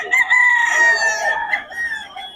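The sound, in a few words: rooster crowing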